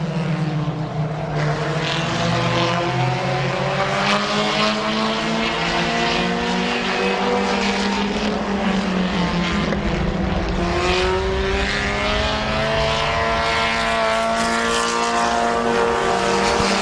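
Race cars roar around Midvale Speedway, their loud engines layering into a continuous howl with rising and falling pitch sweeps as cars pass close by.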